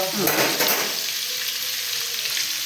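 Bay leaves hit hot oil and butter in a pot, bursting into a loud crackling sizzle that settles into a steadier, softer frying hiss, close up with no talk.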